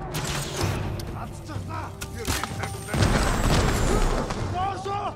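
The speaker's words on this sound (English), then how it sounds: "Fireworks!" Fireworks exploding in the video game Ghost of Tsushima, a series of booming thuds and crackles, louder midway, with a person talking excitedly over them.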